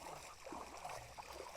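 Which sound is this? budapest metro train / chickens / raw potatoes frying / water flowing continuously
water flowing continuously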